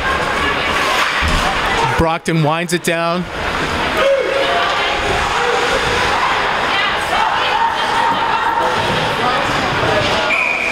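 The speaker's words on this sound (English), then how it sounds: "As you can hear the crowd, they're already into it." Crowd noise fills the rink at a high school hockey playoff game, a loud continuous roar under an announcer's voice, with a few sharp whistle-like tones and bangs mixed in.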